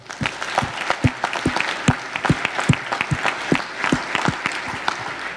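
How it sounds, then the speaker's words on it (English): Audience applause at the Loop Conf WordPress conference: a sparse crowd claps close by, individual hand claps distinct and uneven, continuing steadily without speech. "One more round of applause for them."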